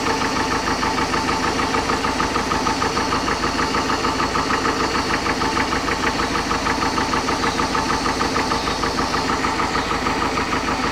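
A 1968 Starcraft Islander boat engine with new electronic ignition parts idles steadily and loud throughout, a fast even throb with a faint knocking rhythm.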